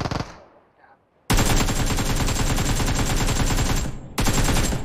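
Loud, sustained automatic gunfire in a video game, rattling almost continuously for about three seconds, dropping out briefly, then resuming, with faint voices before the shooting starts.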